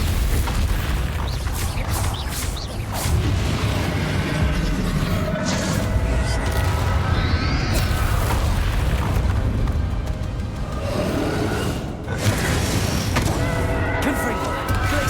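Bombarda explosion spells in the Hogwarts Legacy game boom amid a sustained, loud spell battle, with repeated crashes and bursts layered over constant rumbling and occasional voices.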